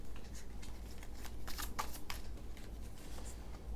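A deck of tarot cards is shuffled by hand in a quiet room, producing a continuous run of riffling, flicking card sounds over a low steady hum, with no talking.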